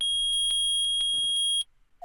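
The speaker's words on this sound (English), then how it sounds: "It's beeping! The metal detector's found something!" A metal detector in the video game Phoenix Wright: Ace Attorney beeps with a high electronic tone, repeating rapidly in regular pulses, loud and piercing, then stops abruptly.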